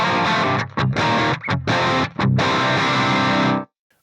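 Loud distorted electric guitar through an amp with cab modeling and a 1x4 cabinet impulse, a few heavy chords and chopped stabs with brief gaps, then a sustained ringing chord cut to sudden silence.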